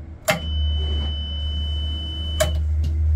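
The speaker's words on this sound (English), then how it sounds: "you can hear the alarm going off" A boat's bilge high-water alarm, mounted above the normal pump on a Sea Ray with Attwood gear, gives two short electronic beeps about two seconds apart over a steady low hum from the running pump.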